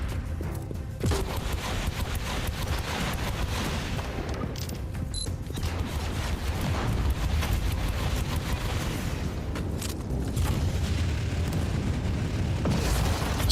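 Rocket blasts and heavy weapons fire rumble through a battle in Warhammer 40K: Inquisitor - Martyr, a continuous mid-level roar of explosions and crackling bursts with no clear individual breaks.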